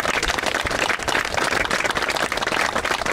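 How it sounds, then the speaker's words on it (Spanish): A crowd of mourners at a farewell for Payo Grondona claps loudly and steadily, a dense close patter of many hands sustained without pause. "un gran aplauso para este gran ser humano que fue Payo"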